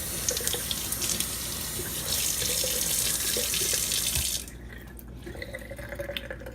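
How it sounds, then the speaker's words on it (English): Broccoli sprout seeds are rinsed by hand under a running tap, a steady close rush of water that splashes and then cuts off, leaving quieter trickling and handling noises. "I'm going to rinse the seeds out. I'm just going to rinse them with my hand."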